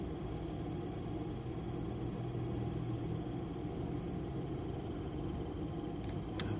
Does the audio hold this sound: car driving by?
yes